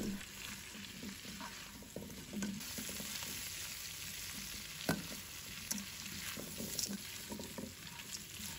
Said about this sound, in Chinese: 然后把包好的板栗倒入锅中，继续把它炒香